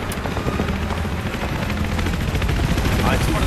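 Helicopter in the video game Battlefield 3 on the Gulf of Oman map, a steady loud rotor and engine drone filling the whole stretch, with faint rattling and distant gunfire-like clatter mixed in.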